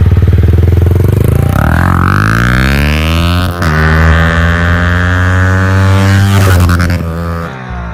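A Yamaha MT-15 motorcycle fitted with a loud aftermarket exhaust revs hard and close, its pitch climbing steadily through a long sustained rev before dropping away near the end.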